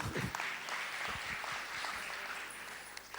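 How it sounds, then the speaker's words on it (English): Applause from an audience at a Bollywood birthday tribute event for Yash Chopra, a fairly quiet, steady patter of clapping with a few louder claps near the start. "A big round of applause for Preeti Zinta."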